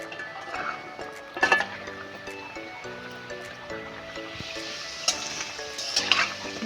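Baby corn pakoras deep-fry in oil with a steady, moderate sizzle, occasional clinks of a utensil against the pan, and soft background music with sustained tones playing underneath.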